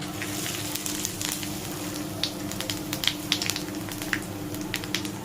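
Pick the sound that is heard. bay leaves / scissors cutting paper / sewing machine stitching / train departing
bay leaves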